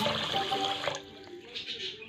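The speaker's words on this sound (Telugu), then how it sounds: "ఇప్పుడు నీళ్ళు పోసి నానబెట్టుకోవాలి." Water is poured from a vessel onto washed rice in a bowl to soak for biryani. The splash and gurgle are soft and close, then fade into quieter trickles.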